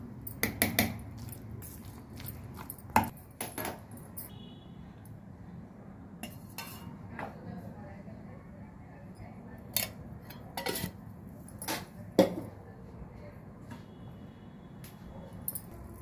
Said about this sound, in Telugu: ఇంక పోపు వేసేస్తాను.